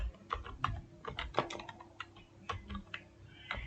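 Someone typing on a computer keyboard, soft irregular clicks of keys close by, quiet and continuous, with no talking.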